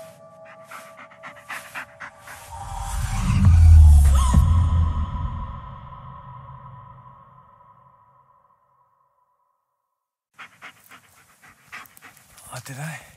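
A dog pants rhythmically up close in the Blair Witch video game, quick breaths swelling to a loud peak then fading, with electronic sonar-like tones and game voices around it before silence and scattered sounds return.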